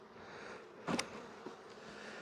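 Honey bees from a weak colony buzz faintly and steadily at an opened hive in an apiary, with a brief louder rustle or thump partway through.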